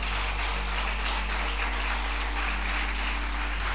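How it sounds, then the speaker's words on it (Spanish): A church congregation applauds during a pastor's service, a steady, dense wash of many hands clapping together over a low hum, sustained evenly for several seconds. "Dale un aplauso a Jesús."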